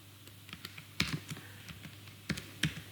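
Typing on a computer keyboard, soft scattered key taps at an uneven pace with a few sharper clacks, quiet and close, with no talk over it.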